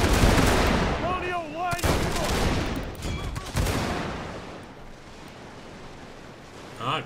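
Gunfire in a Victoria Total War battle, dense rapid volleys of musket and rifle shots crackling loudly, then thinning out and fading, with a voice speaking over the fighting.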